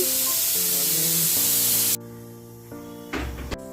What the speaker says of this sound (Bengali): তাই পাঁপড়টা ভেজে নিচ্ছি